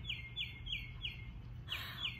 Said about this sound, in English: Bird, oh my God.